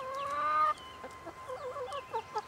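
Backyard New Hampshire Red, Buff Orpington and Americana chickens: a drawn-out hen squawk followed by a run of soft, rhythmic clucks and short calls, fairly faint and close, with no talking.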